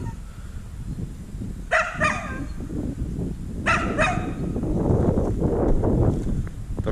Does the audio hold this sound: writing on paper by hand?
no